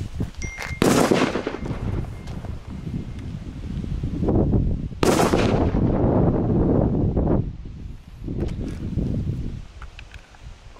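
Triplex P1 Crazy Robot firecrackers go off outdoors in two loud, sharp bangs, each trailing into a long rumbling echo, with wind noise buffeting the microphone between blasts.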